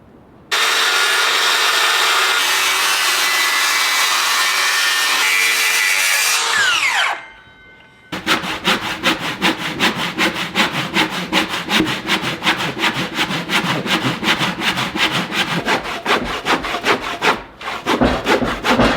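Wood cut for a log cabin: a loud steady power-tool whine for about seven seconds, a short pause, then a handsaw's fast rhythmic rasping strokes running close and continuous to the end, with no voices.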